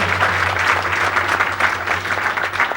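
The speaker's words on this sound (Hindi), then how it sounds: "अरे वाह, तालियां बजाओ" A group of people clap enthusiastically in a room, loud dense applause close by with a steady low hum underneath throughout.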